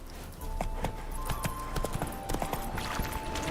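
Hooves of the horse Roach clip-clopping in The Witcher 3, a steady run of near hoofbeats on the ground with faint ambient background and no speech.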